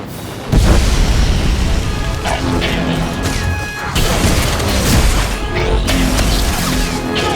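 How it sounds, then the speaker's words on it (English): Fuel tank blown up in Star Wars: The Old Republic, a loud boom and crash bursting in after a half-second lead-in, followed by sustained rumbling debris and a second swell of blast noise amid game combat. "Lit up one of the fuel tanks!"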